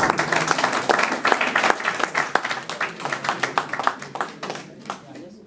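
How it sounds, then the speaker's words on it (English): A crowd at a Nigerian graduation send-off party applauds with loud, dense clapping that gradually thins and fades over several seconds, with voices mixed in. "Please give us another round of applause."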